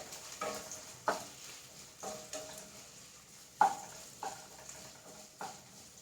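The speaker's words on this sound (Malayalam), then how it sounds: "അപ്പം നമുക്ക് അതിലേക്ക് ഇനി സവാള ഇട്ട് കൊടുക്കാം" Onion sizzling in hot coconut oil in a pan, a soft steady fry with a spoon stirring and scraping in regular strokes, several sharper clinks against the pan standing out, fairly quiet and close.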